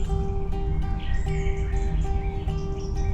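Birds sing outdoors among trees, several overlapping chirps and whistled phrases repeating over a steady background of insect-like hum, fairly close and continuous.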